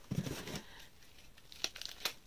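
A plastic bubble wrap packet crinkles and crackles up close as it is opened, a rustle at the start, then a few sharp crinkles after a quiet pause.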